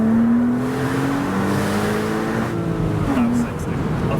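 A Porsche Boxster S launches hard from standstill toward 60 mph, the engine loud and close inside the cabin, its droning pitch rising steadily through the gears with a brief shift dip near the end.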